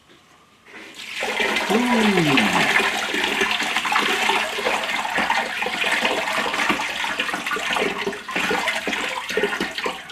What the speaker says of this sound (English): We'll get some water on them.